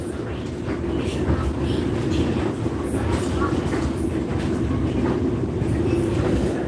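Inside a passenger train running from Da Nang to Quy Nhon in Vietnam, a constant loud rumble and rattle of wheels on rails fills the carriage, with faint clicks and knocks over the steady drone.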